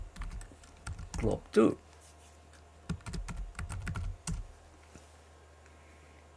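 Keys clatter on a computer keyboard in short bursts of typing, fairly close and quiet, while a person speaks briefly between the bursts.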